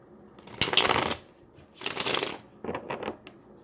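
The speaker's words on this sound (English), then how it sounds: "One more shuffle." Three bursts of tarot card shuffling up close, two long riffling sweeps followed by a shorter choppy one, with no talking.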